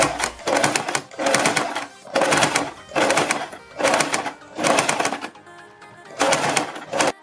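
Sewing machine stitching a fabric strip onto a star-shaped neckline, running in six or seven short bursts of rapid mechanical whirring and clatter, each about a second long and separated by brief pauses.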